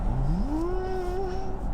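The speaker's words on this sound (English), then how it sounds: "As with most electric cars, this has like an artificial sound," Synthetic acceleration tone from an Audi SQ8 e-tron Sportback electric SUV, a smooth hum that rises steadily in pitch and then holds level, heard alone at moderate loudness without any talk.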